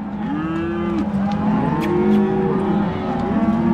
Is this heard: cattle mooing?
yes